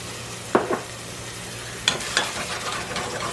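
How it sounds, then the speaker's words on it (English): Garlic, onion and spices such as cumin, chili powder and turmeric fry in a pan, giving a low steady sizzle with a few brief stirring scrapes and clatters, fairly faint, with no talking. "I'm going to fry that up a little bit with the other ingredients, the garlic and the onion."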